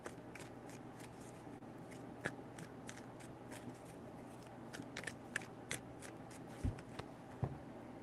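Tarot cards are shuffled in three rounds of rapid papery riffles and flicks, close and fairly quiet, with a couple of soft thumps near the end.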